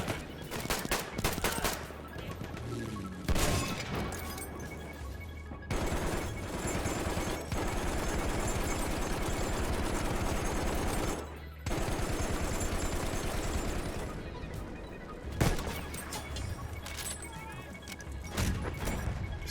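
Gunfire in the World War I shooter Battlefield 1: sustained automatic bursts and rapid shots pound loudly and almost continuously, broken by a few short pauses amid crashing battle noise.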